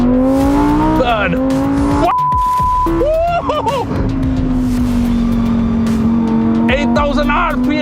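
Lamborghini Huracan Tecnica engine revving hard through the gears to 8,000 RPM, a loud rising howl with sharp shifts and crackles, close and continuous, with someone talking over it.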